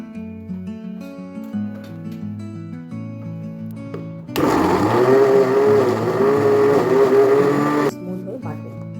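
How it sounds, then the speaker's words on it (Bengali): An electric mixer grinder runs for about three and a half seconds, grinding washed ingredients into a paste with a loud, steady whirring motor tone, between stretches of background music. "তো এখন এটা আমি ফ্রেশ করে ধুয়ে মিক্সিতে দিয়ে দিয়েছি, এবার এটা বেটে নেব।"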